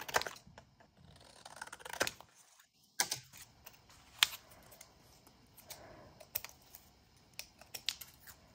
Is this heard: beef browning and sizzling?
no